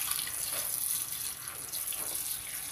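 Tap water runs steadily into a sink or bowl to soak roasted chile peppers, giving a continuous close hiss and splash with no pauses.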